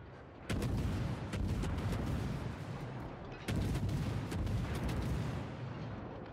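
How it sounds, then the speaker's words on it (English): A Fletcher destroyer in World of Warships opens fire with its guns: two loud booming salvos with sharp cracks, each followed by a long rumbling roar that hangs over steady background noise. "I'm just gonna open up with my guns and try to get the fire."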